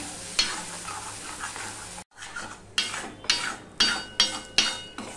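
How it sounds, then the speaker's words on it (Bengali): Ridge gourd paste frying in a wok and being stirred: a steady sizzle, then a short break, then about six sharp scraping strokes of the spatula in a regular rhythm, close and fairly loud. "ওখানে নাড়তে থাকতে হবে, না হলে কড়াইতে লেগে যাওয়ার সম্ভাবনা থাকে।"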